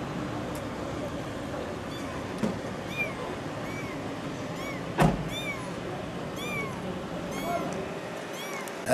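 Kitten caught in a car engine meowing repeatedly in short high cries, with clanks and background voices around it outdoors.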